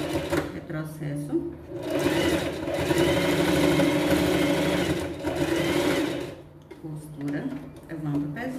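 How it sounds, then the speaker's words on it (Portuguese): A sewing machine stitches a red fabric pet backpack, running in a steady, fast whir for several seconds. It slows and stops briefly at the start and end, while someone talks over it. "Costura, levando o pezinho."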